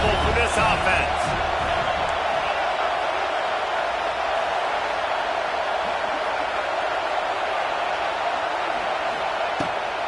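A football stadium crowd roars steadily and loudly throughout, a dense wash of noise with scattered shouts over it.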